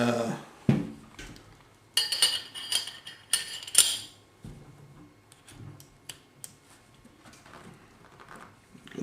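A Glock pistol is reassembled, with crisp metallic clicks and snaps of parts sliding and locking together, a burst of quick rattling in the middle, then sparse small ticks, all quiet and close.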